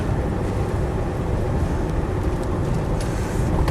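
A Land Rover 90 CSW V8 on the move, giving a continuous, loud, dense engine and road rumble that stays even throughout with no voices.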